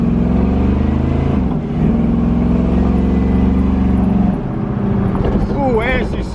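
A car with a freshly rebuilt 4L80E automatic transmission pulls away under power, engine note climbing then dropping at a gear change near the middle, with another shift toward the end and an excited voice briefly over the engine.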